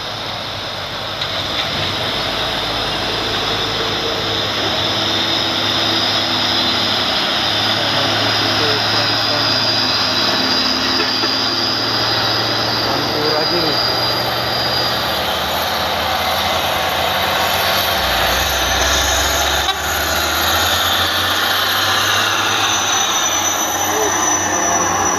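A heavily loaded trailer truck climbs a steep hill, its engine droning loud and strained at a sustained high rumble, with a shift in tone near the end and people talking over it.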